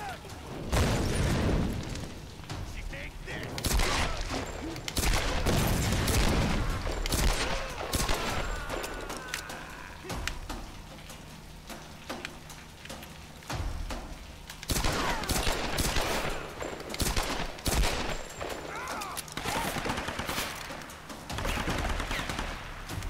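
Sustained gunfire in the video game Tomb Raider, loud rapid bursts and booming shots that run almost continuously, with a voice talking faintly underneath.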